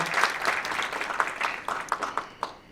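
Forum audience gives welcoming applause in a conference hall, a brief burst of clapping that thins out into a few scattered final claps.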